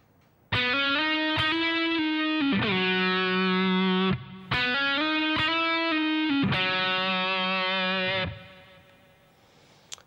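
Distorted electric guitar plays a solo phrase from a song, a run of sustained singing notes with a brief gap in the middle, loud and alone, then fading away.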